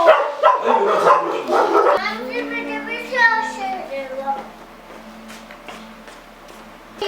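A dog barking outdoors in Racha, Georgia, in winter: a few sharp barks come early, mixed in with people talking, and then quieter voices follow.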